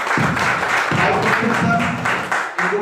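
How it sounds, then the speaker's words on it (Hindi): A crowd at a business gathering claps loudly and continuously, with a brief dip near the end and some low background murmur under the clapping. "आप सोचिए इनके जोरदार तालियां होनी चाहिए।"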